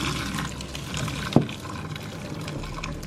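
Water being poured off boiled russet or yellow potatoes, a steady close gush of liquid with a brief clunk of the pot partway through, no talking.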